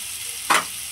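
Onion and chopped tomato sauté in a pan, a steady soft sizzle broken by one brief scraping stir near the middle.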